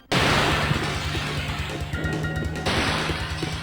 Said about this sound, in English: Instead, they just kind of appear there, maybe with a breaking glass sound effect